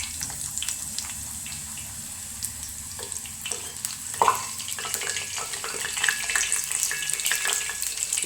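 Puris frying in hot oil with a steady crackling sizzle, punctuated by a few louder clicks and splashes of oil ladled over the top, close and continuous with no voices.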